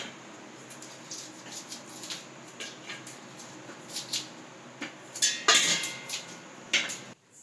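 A knife cuts through cassava peel with a series of soft, close scraping and clicking strokes that grow busier and louder toward the end, with no talking.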